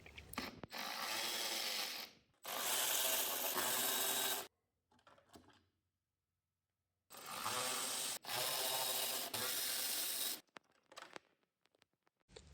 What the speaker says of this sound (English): remove the 10 Torx 25 screws as well as the wind deflectors